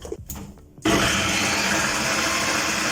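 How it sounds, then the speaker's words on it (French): A kitchen blender whirs loud and steady as it mixes banana batter with yeast, starting abruptly after a few brief clunks and running continuously to the end. "Et ensuite, vous allez mixer tout ça."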